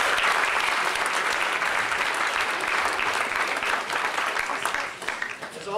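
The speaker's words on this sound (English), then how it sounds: "let's give them another round of applause." Sustained applause from an audience fills the space, dense clapping at even volume that thins slightly near the end.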